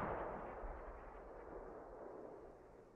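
Distant mortar fire in the military video game SquadOps, a loud booming impact at the start that rolls into a long, decaying rumble over roughly three seconds, with no talk.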